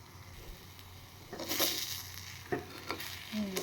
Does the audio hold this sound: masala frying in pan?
yes